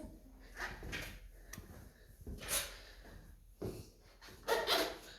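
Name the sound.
squeaking boot sole stepping down on floor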